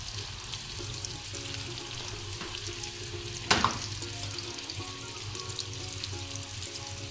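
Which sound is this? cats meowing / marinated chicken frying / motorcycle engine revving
marinated chicken frying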